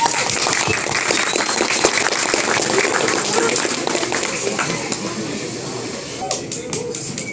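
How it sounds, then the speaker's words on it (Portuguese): An audience applauds at a live Portuguese-language interview event with a Watch Dogs game developer, a broad wash of clapping that gradually thins and fades toward the end. "Então, aplausos para THOMAZ GEFFROYD."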